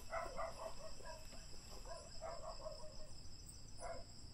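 A dog barks in the distance on a mountainside at night: several faint, scattered barks in short clusters over a constant high chorus of crickets.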